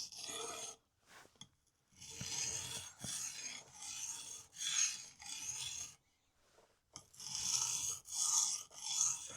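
A kitchen knife is drawn across a whetstone in a series of close, gritty rasping strokes, each lasting about a second, separated by short pauses, with a longer gap midway.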